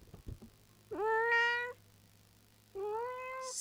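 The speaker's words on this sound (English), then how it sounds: "Put the cat on the mic." A pet cat meows twice close to the microphone, each a drawn-out tonal call of about a second separated by a short pause, with faint rustling before the first.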